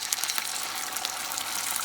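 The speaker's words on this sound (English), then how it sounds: "we're gonna start frying these out" Oil sizzles steadily in a pan as salmon fish cakes fry, with a bright, constant crackle and scattered little pops, close up and with no voices.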